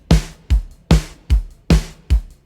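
Drum kit reinforced with triggered bass drum and snare samples, delivering six punchy, evenly spaced hits with short decays, loud and close with no talk.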